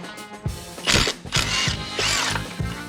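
Impact gun working on an engine bolt during a GM LS4 engine teardown, firing in several short, loud bursts separated by brief pauses, close by with no talking.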